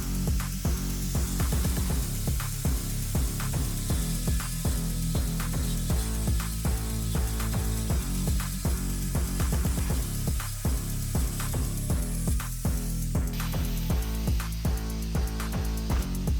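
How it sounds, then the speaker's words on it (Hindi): A core drill bores a hole through tile for a wall-hung toilet install, a loud continuous grinding rattle with rapid repeated chatter throughout, close and without talk. "अब इसे हम ड्रिल कर लेते हैं"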